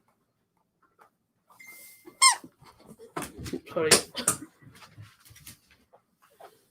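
A pet dog named Eddie pants and whimpers close by with breathy, whiny bursts while someone speaks briefly over it indoors.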